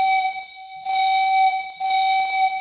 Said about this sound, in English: That's the old caboose whistle there.